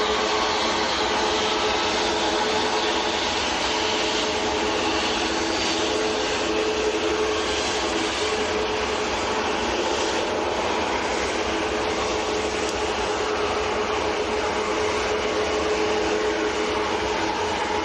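Boeing 787 Dreamliner taxiing at Manchester Airport, a steady broad jet-engine roar with a sustained whine, moderately close and continuous throughout with no talk.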